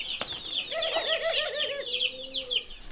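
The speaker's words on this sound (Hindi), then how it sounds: "कबूतर उड़ गए।" Pigeons burst into flight nearby with a quick flurry of flapping wings, while soft cooing and clucking calls carry on through the short, fairly quiet scene.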